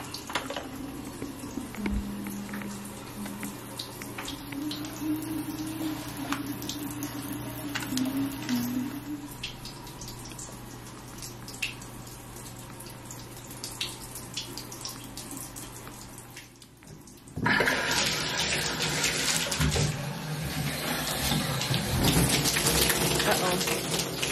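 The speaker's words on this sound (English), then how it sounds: "my filter wasn't locked. All the water started coming out." Water running and splashing out of an unlocked filter, a continuous pattering flow with a low hum under it, growing louder and fuller partway through, with no one speaking.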